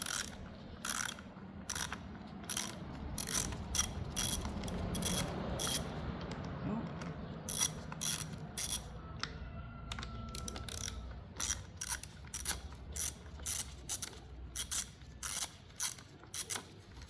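Ratchet with a 5/16 socket being worked on a two-stroke string trimmer, giving a steady run of close, sharp clicks in quick repeated bursts, with no talking.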